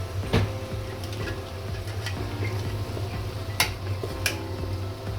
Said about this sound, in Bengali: এখন আমি টমেটোটা দিয়ে মাংসটা একটু নেড়ে নিব।